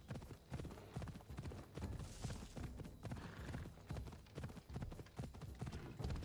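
Horse hooves clip-clop steadily at a brisk gallop in Assassin's Creed Odyssey, a continuous rhythmic pounding close by that stays fairly quiet throughout, with no voices.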